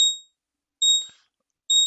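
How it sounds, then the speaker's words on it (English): A trading chart's price alert alarm beeps in three loud, evenly spaced electronic bursts, each a short high two-tone chirp, with a faint rustle between the second and third. "Just having that chart alarm going off right now if you can hear it."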